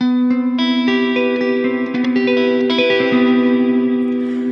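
A single electric guitar chord rings out, its notes building up one after another and sustaining with heavy chorus, echo and shimmering reverb.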